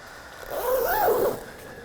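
Side zipper on insulated down hunting pants pulled in one smooth rising and falling zip lasting under a second, close and clear against a quiet background.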